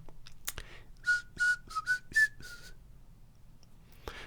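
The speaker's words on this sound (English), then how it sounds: "It's tongue whistling rather than lip whistling." A short run of clear, mid-pitched tongue-whistled notes, about six in a row with small pitch steps, soft and close, with brief clicks before and after.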